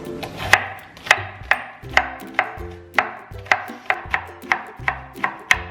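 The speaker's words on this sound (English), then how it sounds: "then I'm also going to cut up about a half a cup of green onions" Green onions chopped with a knife on a cutting board: a steady series of about a dozen crisp, close knocks, roughly two per second, with no talking.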